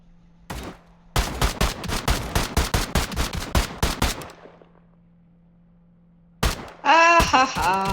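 Rapid bursts of video-game gunfire during alternating shooting practice, a quick run of sharp, evenly spaced shots followed by a pause, then another shot and a brief ringing, tonal effect at the end.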